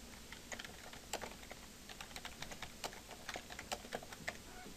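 Typing on a computer keyboard, a quiet run of quick irregular key clicks with an occasional firmer tap, close and alone, with no talking.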